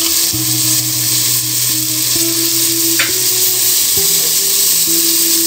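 Peas go into a hot frying pan for paneer pea biryani, and a loud, steady sizzle fills the whole stretch, with a brief sharp scrape partway through and tonal background hum underneath.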